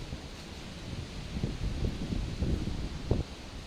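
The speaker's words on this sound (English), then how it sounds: "It's a windy day in Anglesey. The bare trees are blowing in the breeze." Gusty wind rushing through bare trees in Anglesey, a steady low roar with rising and falling gusts, fairly close to the microphone.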